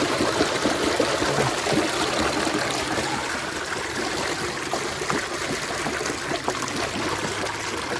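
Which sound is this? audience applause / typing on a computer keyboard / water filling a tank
water filling a tank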